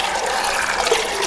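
Water poured into a cooking pot over peanuts set to soak, a steady broadband splashing rush lasting about a second, close and fairly loud.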